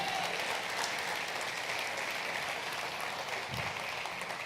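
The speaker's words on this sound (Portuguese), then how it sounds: "Você pode aplaudir o Senhor Jesus?" Church congregation applauding during a Portuguese-language sermon, steady sustained clapping from a crowd at moderate distance with no speech over it.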